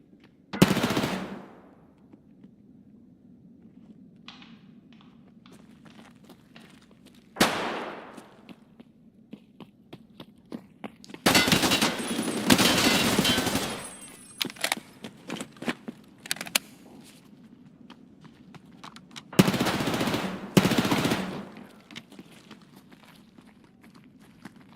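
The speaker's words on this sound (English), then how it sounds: "Stop shooting." A shooter video game plays several loud bursts of gunfire and rapid machine gun volleys, each lasting a second or two, with quieter stretches between them filled by footsteps and small clicks.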